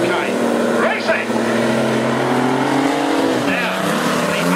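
Race cars roaring around the track during a derby and team race at Nelson Speedway, a loud continuous engine drone with rising and falling pitch as a commentator talks over it.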